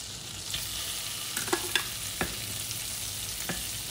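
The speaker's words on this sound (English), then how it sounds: "All right, let's start adding the shrimp." Shrimp going into a hot pan of melted butter, with a constant bright hiss of frying and a few sharp pops and taps as pieces drop in, close and without voices.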